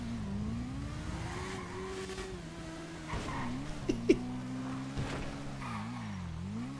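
A motorcycle engine in a video game roleplay hums steadily and rises and falls in pitch as it revs, with a few short clicks and knocks over the drone.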